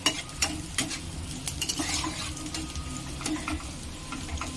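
Shredded carrots for chira pulao fry in a pan, a low steady sizzle broken by a few scraping stirs and light utensil knocks, close-up with no voices.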